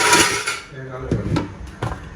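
Dishes and utensils clink and scrape close by, with a few sharp metallic knocks between bouts of scrubbing.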